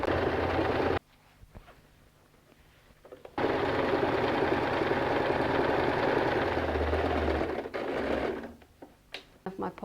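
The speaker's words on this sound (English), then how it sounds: "and I'll just go and sew" A sewing machine stitches a denim pocket for a bag made from old jeans, whirring in two sustained runs with a short pause between and a softer stop-start burst at the end.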